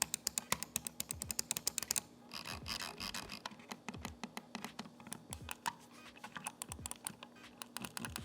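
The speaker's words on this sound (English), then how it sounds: "I'll go ahead and give you guys a sound test of those switches now so you can hear it for yourselves." Rapid clicking from the tactile switches of an Alienware AW610M wireless gaming mouse, many sharp close clicks in quick bursts and steady runs, with no talking.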